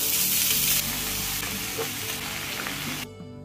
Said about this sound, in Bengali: এরপর ওই তেলের মধ্যেই শুকনো লঙ্কা আর কালো জিরে ফোড়ন দিচ্ছি